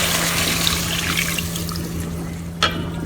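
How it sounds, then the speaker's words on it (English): Water pours steadily into a pan of humba with black beans, a continuous close splashing hiss lasting several seconds with a brief sharper splash near the end. "It's looking good, so we add our water."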